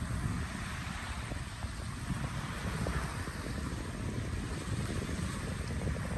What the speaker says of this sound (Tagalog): Lumakas ang alon.